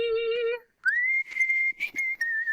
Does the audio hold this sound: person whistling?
yes